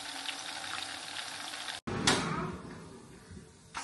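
French fries fry in a pan with a steady, soft sizzling hiss, briefly cut off, then returning with a sharper crackle before settling again.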